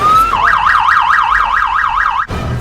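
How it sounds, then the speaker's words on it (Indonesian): Police car siren from the zombie film REC 3, a loud close electronic wail rising and falling steadily in rapid regular cycles for about two seconds before cutting off abruptly. "Tapi naas, dia diserang dan sirene pun berbunyi"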